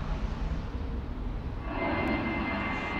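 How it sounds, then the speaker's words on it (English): Aeroplanes flying over an allotment garden make a broad, steady engine roar that swells louder partway through, with no one speaking. "still putting up with the aeroplanes"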